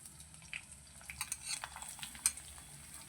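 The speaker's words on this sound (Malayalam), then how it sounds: "വെളുത്തുള്ളിയും ഇഞ്ചിയും ചേർത്ത് കൊടുത്തതിന് ശേഷം നമുക്കതൊന്ന് വഴറ്റിയെടുക്കാം" Garlic and ginger sautéed in a very hot pan for a Kerala-style mango pickle: a faint, low sizzle with scattered soft scrapes and clinks of a stirring spoon, no talking.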